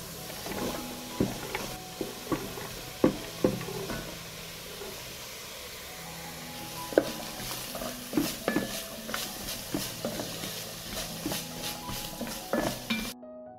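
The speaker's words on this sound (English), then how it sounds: "I fry celery and leeks together with onions." Celery, leeks and onions frying in a pan, a low sizzle with a spoon scraping and tapping against the pan in irregular strokes.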